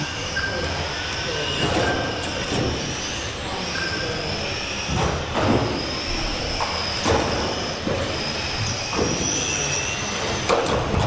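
Tamiya M-05 RC car running around a race track, a steady buzzing whine of the motor with repeated brief clatters and knocks, heard over a continuous busy background hum.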